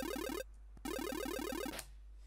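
A synthesizer arpeggio remaking a song's sound: fast, bright stepping notes in two loud bursts split by a short gap, ending in a brief swell before fading to near silence.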